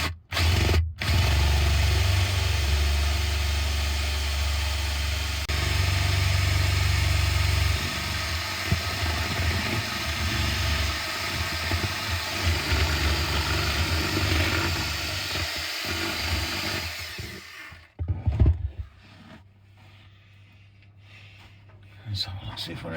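A power drill bores holes into solid plywood cupboards inside a motorhome, a loud continuous whirring drone that runs for most of the stretch before stopping, with someone talking over it.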